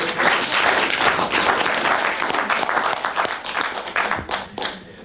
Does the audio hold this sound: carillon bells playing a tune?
no